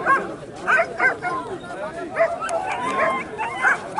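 Greyhounds bark, yip and whimper in repeated bursts at an open hare coursing race in Punjab, close and fairly loud, with people talking and calling out over the dogs throughout.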